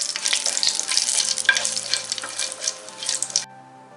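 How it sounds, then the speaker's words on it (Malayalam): Whole cinnamon, cloves and cardamom fry in a hot pan, giving a loud, close, continuous sizzle with bits of stirring, then cutting off near the end. "ഫ്രൈ ചെയ്തെടുക്കാം."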